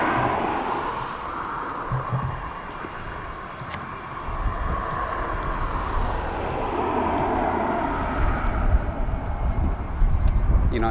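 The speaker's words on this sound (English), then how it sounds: "So our Ryanair flight from Kerry in Southern Ireland is coming in." A Ryanair airliner lands on a short flight in from Kerry in southern Ireland, heard outdoors at Dublin Airport as a steady, broad engine rumble that swells gradually toward the end.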